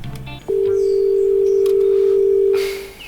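A phone call being placed: a few short keypad dialing beeps, then a loud, steady, close tone that holds for about two seconds before cutting off, with no talk.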